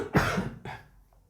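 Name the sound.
cough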